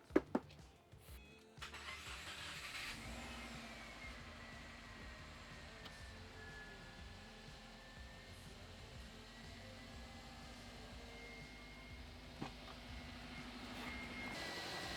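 A Subaru WRX engine, newly installed, cranks and catches on its first startup, then settles into a steady low idle hum with a faint whine riding above it.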